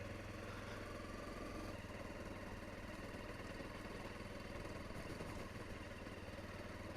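A motorcycle engine hums steadily in a fairly high gear on a gravel track during a chilly November evening ride, a continuous low drone with faint crunching and clatter throughout, no talking.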